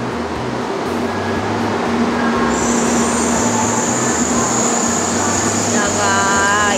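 A Shinkansen bullet train rumbles past close by with a steady roar, a thin high whine held throughout, and brief wheel squeals near the end.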